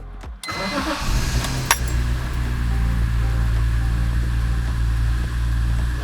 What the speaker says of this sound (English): Finally going to start the car.